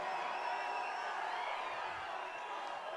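A large rally crowd in Miami, Florida cheers in a steady, dense roar that holds loud and continuous throughout, with no clear individual voices standing out.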